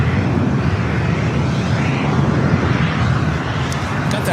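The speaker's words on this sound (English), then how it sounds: "We do have Hawaiian Flight 809 at the flight heading to Honolulu, A330-200 at number 2 for takeoff here on the south." A Hawaiian Airlines Airbus A330-200 bound for Honolulu rumbles on the south side at LAX before takeoff, a loud, steady low-heavy jet engine roar that holds throughout without noticeable change.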